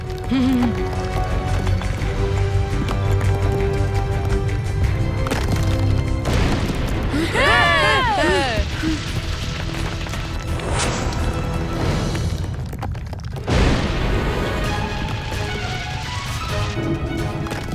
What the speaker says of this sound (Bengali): এই মাটি ফেটে যাচ্ছে